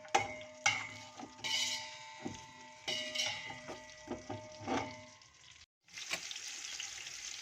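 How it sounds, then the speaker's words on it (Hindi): Whole spices and onions frying in oil in a pot for chicken yakhni pulao, a soft crackling sizzle with intermittent clinks and scrapes of a spoon, quiet and close, without talk. "इस स्टेज पे जबकि थोड़े से अनियन पिंक हो चुके हैं, इसमें जा रहे हैं होल स्पाइसेस। इनको थोड़ी देर हम फ्राई करेंगे।"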